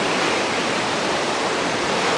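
Storm-surge ocean waves at night on Icaraí beach, a dense, steady roar of crashing surf filling the whole clip, loud and close, with no voices.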